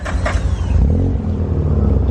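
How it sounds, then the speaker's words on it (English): A rare Mazda RX8 R3 rotary engine idling and revving through a new exhaust with a high flow cat, a deep loud rumble with a short blip early on before settling into a steady throaty idle. "Everybody wants to hear it after we put on this sweet exhaust system with the high flow cat and this rear section"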